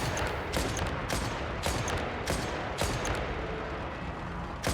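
Gunfire in the video game Genshin Impact, a series of about seven sharp, evenly spaced shots over a dense, loud game soundtrack, with no voices audible.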